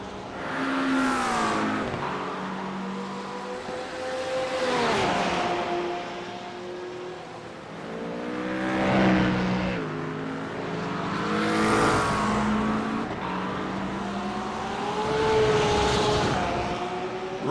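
GT3 race cars lapping Zandvoort, engines rising and falling in repeated high-revving passes as cars sweep by, each approach swelling loud then fading, with gear changes audible in the climbing pitch.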